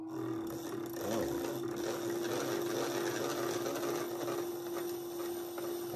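A brand-new chattering tool cuts into a pot of dry, hard clay on a spinning wheel, giving a close, steady rapid buzzing rattle over a constant motor hum throughout.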